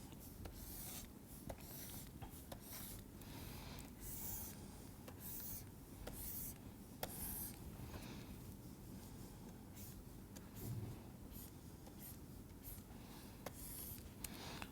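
Marker or chalk writing numbers and drawing a table on a board, a faint continuous scratching and rubbing with short strokes and taps, quiet and steady, no talking.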